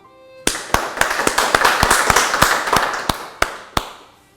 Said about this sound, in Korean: 우리 모두 승리하신 참 어머님께 감사의 박수를